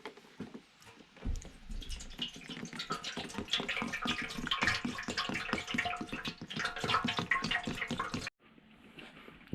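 A gallon of sodium carbonate solution pours into a motorcycle gas tank, a continuous gurgling, splashing stream of liquid that runs for about eight seconds, then stops abruptly, leaving only faint drips.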